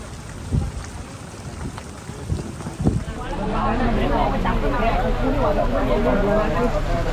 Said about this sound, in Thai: ฝนเริ่มตกหนักครับผม